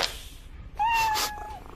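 A cartoon cat lets out a loud, drawn-out yowl with a wavering pitch, rising suddenly after a quieter stretch and trailing off near the end, with no talking over it.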